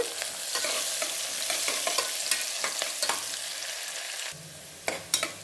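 Thinly sliced onion fries in a pan for pudina rice: a steady hiss of sizzling runs throughout, broken by the scrape and clatter of a spoon stirring, then drops quieter near the end with a few sharper knocks.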